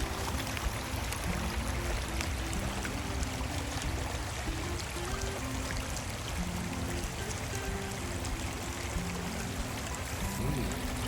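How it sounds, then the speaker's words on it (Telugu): A backyard creek in the USA, muddy after recent flow, gives a steady, soft rushing and trickling of moving water, continuous and unbroken throughout, with no voices over it. "ఇలా వాటర్ ఫ్లో ఉందన్నమాట"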